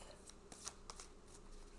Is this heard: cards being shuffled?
yes